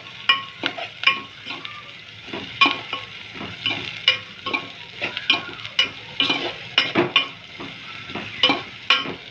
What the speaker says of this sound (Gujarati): એને ધીમા ગેસે આમ ઘડીક છેડું છું। ડુંગળીને મસ્ત કચરી બફાઈ જાય, તેલમાં તળાઈ જાય